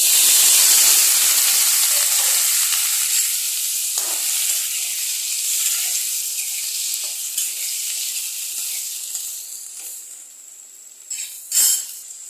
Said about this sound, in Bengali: এরপরে আমি দিয়ে দেবো এখানে জিরা ফোড়ন, তেজপাতা আর শুকনো লঙ্কা।